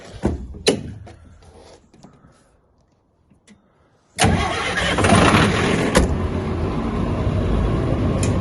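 A generator engine's starter whirs briefly, then the engine catches and runs through a homemade exhaust with a loud, steady roar that continues to the end.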